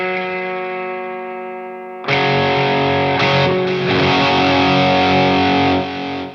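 An electric guitar through an HX Stomp and Boss Katana amp rings out a sustained chord with overdrive, shimmering chorus and trailing delay, then a louder, thicker strummed passage sustains before fading.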